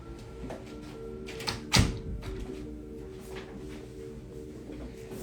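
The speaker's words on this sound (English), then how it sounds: "I'm actually going to close the door to the office" An office door is pushed shut with one brief knock partway through, over a steady low room hum.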